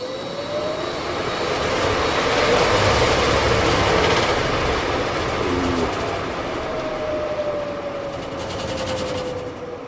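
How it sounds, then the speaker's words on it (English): A brand-new ECM blower motor on a two-stage Goodman furnace runs in fan-only mode with an out-of-balance blower wheel, giving a steady loud whooshing roar with a faint rising and falling whine, and no talking. "Brand new blower wheel's out of balance."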